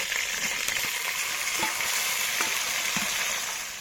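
Chicken pieces frying in hot oil, a steady close, loud sizzle throughout with occasional light stirring clicks and no voices.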